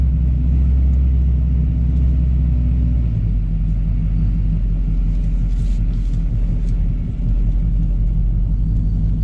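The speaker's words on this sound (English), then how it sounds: "we'll take it for a ride around the block, and I'll show y'all how docile the car can be" A Dodge Hellcat fitted with a Kenny Bell supercharger cruises around the block, its engine giving a steady deep rumble and low idle-like drone throughout, close and loud with no talking.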